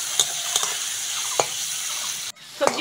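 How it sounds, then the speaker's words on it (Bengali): Vegetables and tomatoes fry for chow mein in a pan, a steady close sizzle broken by a few sharp clicks of stirring and a brief dip before the frying resumes. "কটা টমেটো, ওর সঙ্গে ভালো করে ভেজে নেব।"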